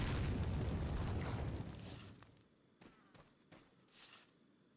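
A flashbang goes off in a video game: a loud burst that decays over about two seconds, then a few short sharp pops and a brief bright crack, with no talk.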